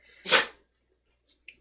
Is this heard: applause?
no